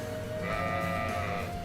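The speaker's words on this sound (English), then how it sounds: "There's a sheep!" Sheep bleating in the video game Trails of Cold Steel, a single sustained nasal bleat with a wavering tone, heard alone over a steady game backdrop.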